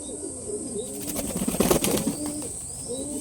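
Pigeons cooing inside a loft, with soft repeated coos and a burst of wing flapping near the middle, continuous and close under a steady background hiss.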